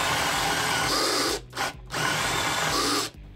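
A Makita DDF482 cordless drill drives with a loud, steady whir whose bit slips in the chuck, the motor noise cutting out briefly twice before resuming.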